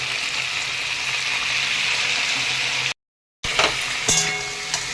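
Sliced teasel gourd fries in a pan with salt and turmeric, giving a steady close sizzle. A brief silent break is followed by more frying with stirring and scraping noises.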